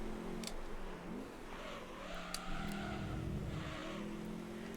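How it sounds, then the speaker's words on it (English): Racing car engines from Gran Turismo 3 drone steadily at a low volume, with pitch rising and falling as the cars shift through gears and a few faint skids along the way. "constant car noises, which I do kind of have playing a lot in the background"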